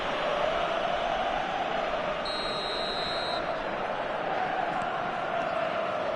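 Steady, dense roar of a football stadium crowd in the eFootball video game, a continuous broad murmur at a distance with no distinct cheers, filling the whole stretch evenly.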